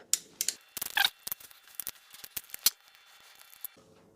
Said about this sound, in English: So what I'm going to do now is take these 10mm bolts off.